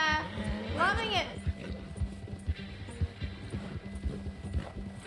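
A horse gallops in Red Dead Redemption 2 on PS5, its hooves drumming in a steady fast rhythm after a brief whinny, with excited talk over the game audio.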